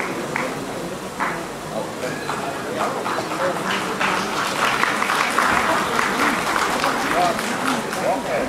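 Lively applause from an audience at a fashion show, a dense sustained clatter of many hands clapping throughout, with crowd chatter and some voices mixed in beneath the clapping.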